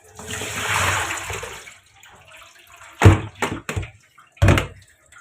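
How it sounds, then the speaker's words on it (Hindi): Water splashes and pours over taro (arvi) being washed in a sieve, a rushing pour at first, then a few sharp splashes and knocks after a pause. "एक बार फिर हम इसको पानी डाल के फिर करेंगे। अब हम इसको डाल लेते हैं छलनी में।"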